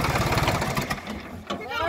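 A tractor runs in a farm field with a rotavator attached, its engine a rough steady chug that fades after a moment, mixed with someone talking nearby.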